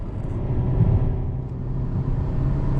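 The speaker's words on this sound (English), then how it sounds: "you can hear the engine, and you can hear that exhaust note, which is quite subtle, very Japanese" Japanese car engine running at higher revs with a subtle sporty exhaust note, a steady close rumble with no talk over it.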